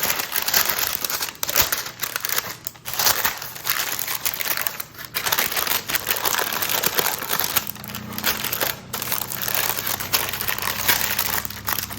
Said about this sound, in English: grab you some parchment paper, and you're going to put the parchment paper in it just like this